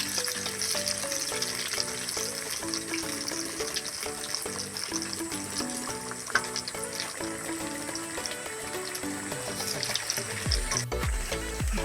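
Pumpkin leaf rolls fry in hot oil with a steady, dense sizzle throughout, close and fairly loud, with background music tones running underneath and a brief clatter near the end.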